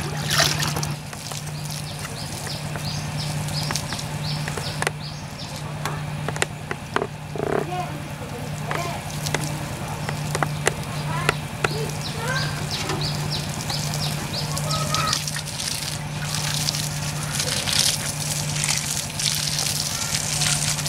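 Pond water from a fish pond is poured over an organic growing medium, making a continuous crackling trickle and soaking patter for about twenty seconds, with scattered small clicks and a low steady hum underneath.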